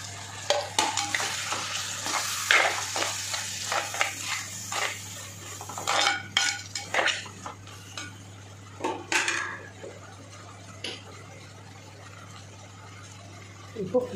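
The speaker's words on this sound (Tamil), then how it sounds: "நம்ம வதக்கணும்." Ginger, garlic, tomato and green chili stirred in a pan for a cassava gravy, with scraping spoon and pan clatter plus faint sizzling, while someone talks over the cooking at moderate volume.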